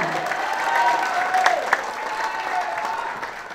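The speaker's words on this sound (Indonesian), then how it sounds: "Kita berikan aplaus yang paling meriah kepada calon Gubernur Jawa Barat, Kang Deddy Mulyadi." Audience applause for West Java gubernatorial candidate Deddy Mulyadi at a campaign event: steady, dense clapping from a crowd that holds at an even level throughout, with a few sharper claps and faint cheering and voices mixed in.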